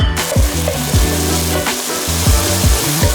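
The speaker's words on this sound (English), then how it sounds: "I'll add the bacon fat in for flavor" Lean meat sizzles in saved bacon fat in a home kitchen, with a rhythmic scraping and stirring of a utensil against the pan repeating several times over the steady frying hiss.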